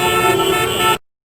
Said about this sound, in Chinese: 这样一个堵车的声音效果就做好了